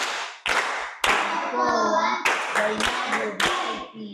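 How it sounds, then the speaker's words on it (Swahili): An audience at a talk on raising children breaks into several short bursts of clapping, each sharp onset fading quickly, with a voice sounding between the bursts. "Tumpigie makofi jamani."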